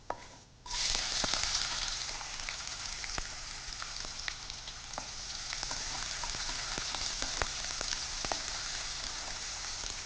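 Mustard seeds and urad dal in hot oil, a steady hiss with scattered sharp pops and crackles throughout, fairly soft and close, with no speech.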